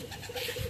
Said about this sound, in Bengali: এগুলো কবুতর আছে